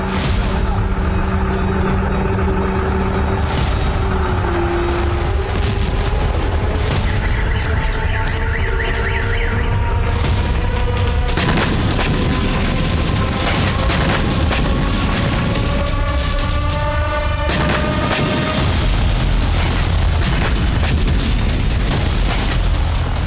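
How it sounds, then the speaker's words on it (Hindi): Sustained roar of heavy bombardment and drone strikes on a Russian military camp near Pokrovsk, loud booming blasts mixed with rising whining tones and sharp cracks throughout. "पोक्रोवस्क की अस्थायी रूसी छावनी पर भीषण बमबारी की गई।"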